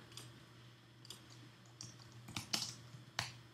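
Quiet typing on a computer keyboard, a sparse run of soft clicking keystrokes picking up toward the end, close and alone over a faint background hum.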